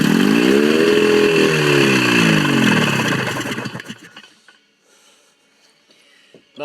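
A Polaris 295 free-air snowmobile engine with a mismatched exhaust from a 250 runs loud and close, its pitch rising and falling through revs for about three seconds before dying away to quiet.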